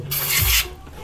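Brake cleaner is sprayed onto a Subaru parking brake shoe assembly, giving one close, loud half-second hiss of aerosol that stops abruptly, with no voices.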